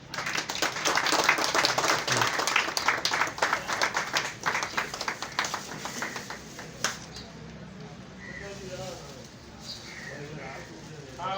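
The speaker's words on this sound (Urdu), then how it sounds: "سید ذوالفقار شاہ صاحب کو آپ کی زوردار تالیوں میں ہار بنائیں گے" Audience applause at a ceremony honoring sanitation workers, dense clapping loud for about seven seconds then fading out, followed by scattered voices and room chatter.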